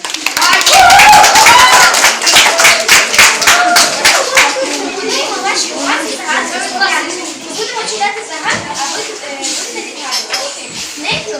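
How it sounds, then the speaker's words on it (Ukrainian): A crowd claps enthusiastically for seventh-grade students at a school maths humour event, loud at first and then gradually thinning into scattered claps, with children's voices chattering underneath. "Привітаємо їх оплесками."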